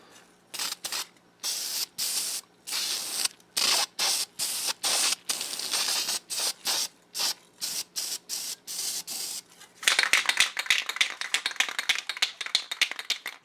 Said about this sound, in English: Trouble with spray bombs is you never know what you're going to get.